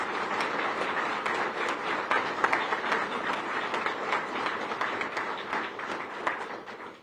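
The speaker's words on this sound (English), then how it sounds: "So if you would, please just give him a round of applause." Warm round of applause from an audience at an Oklahoma City event announcing a new police chief, many hands clapping steadily and fairly close, easing off at the finish.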